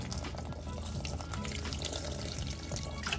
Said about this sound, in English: I can put some coconut water as well